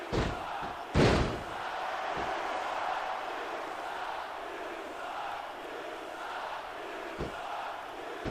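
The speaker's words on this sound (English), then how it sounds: "I think these superstars are getting some feedback from the crowd, JR." Sustained crowd roar from a packed arena in the wrestling video game WWE SmackDown vs Raw 2006, with a couple of sharp slams and thuds punctuating the noise.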